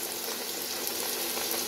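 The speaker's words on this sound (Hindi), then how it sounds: "इस दफ़ा हमने 4 डाले हैं जी समोसे, क्योंकि तेल काफ़ी गर्म है" Samosas frying in very hot oil in a kadai give a steady, loud, dense sizzle and bubbling that continues without a break, with no voices.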